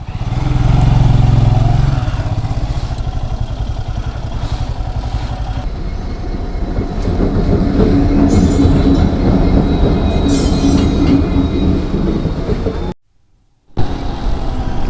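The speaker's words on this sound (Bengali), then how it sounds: "রেলও অলমোস্ট এসে গেছে।" A train passes a railway crossing at Raiganj, heard from a motorbike stopped at the gate: a loud, close rumble with rhythmic clattering wheels builds and holds for the whole span, broken by one brief dropout near the end.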